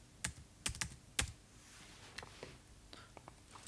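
Soft, close keystrokes on a computer keyboard while entering text in Excel, a few quick clustered taps followed by lighter, sparser clicks.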